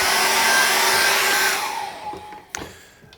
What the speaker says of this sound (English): I'm going to dry that with a hairdryer